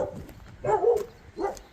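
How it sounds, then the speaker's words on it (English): Dogs barking outdoors on a cold, windy morning: two muffled, fairly distant barks about three-quarters of a second apart, after a softer yelp at the start. "They don't know what they're barking at."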